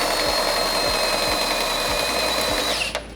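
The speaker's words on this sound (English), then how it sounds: "Cooper and I are drilling 1/2-inch holes on the chassis." Steady high-pitched whine of a drill boring half-inch holes through a car chassis, running continuously at close range with a faint repeating low thump, then tapering off at the end.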